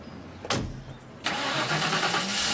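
A light-alloy, fuel-injected six-cylinder car engine cranks briefly, pauses, then turns over and catches, settling into a steady close idle.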